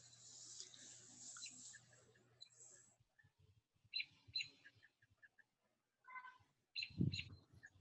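Birds calling outside a house: faint, scattered chirps and squawks, some in quick pairs, over a soft background hum.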